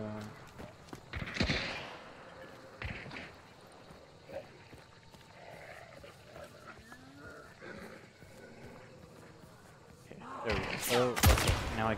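Shotgun fire in the Hunt: Showdown video game: a few sharp, loud blasts spaced apart, the biggest near the start and a cluster at the end, over quiet in-game ambience.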